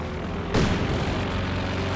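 Twin 30cm aircraft cannons open fire on infantry in Company of Heroes 2, heard as one sudden heavy blast that rolls into a dense, sustained rumble of explosions and battle noise.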